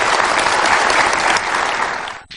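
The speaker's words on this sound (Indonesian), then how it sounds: "Oke, boleh dikasih tepuk tangan untuk dua tokoh ini." Studio audience at a televised Indonesian political debate show applauds two figures, a loud, dense, steady clapping that fills the room before cutting off sharply near the end.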